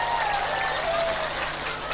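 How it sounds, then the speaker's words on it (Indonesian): An audience at a religious lecture claps for the organising committee, a brief, even patter of many hands that sounds almost like rain and stays steady for a couple of seconds. "saya minta tepuk tangan dulu dong buat panitia kita"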